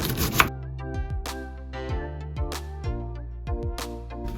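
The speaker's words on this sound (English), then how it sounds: "Then you start cutting your onion." A kitchen knife chops through an onion on a cutting board with sharp, crisp taps in a steady rhythm of roughly two per second, close and clear with no talking.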